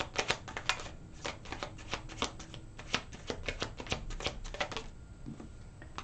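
Tarot cards are handled and laid out in quick snapping flicks and soft slaps, an irregular run of close, crisp clicks that thins near the end, with no talk.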